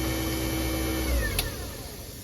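An American Standard garbage disposer, freshly installed under a Kohler sink, hums with a quiet, steady whir that holds an even tone throughout, with a faint brief tick near the middle.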